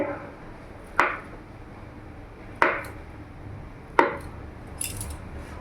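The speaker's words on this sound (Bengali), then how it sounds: "এখানে আমি পনির নিয়েছি, পনিরটাকে কেটে নেব।" A knife cuts through a block of paneer on a board, three distinct sharp chops spaced about a second and a half apart, then a fainter fourth tap, close and clear over quiet background.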